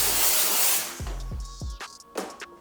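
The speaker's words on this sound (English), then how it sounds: "you're gonna have to use the steamer." A steamer aimed at paint protection film on a car front near the fog light gives a strong hiss for about a second, followed by a few low thumps and scattered faint clicks and squeaks.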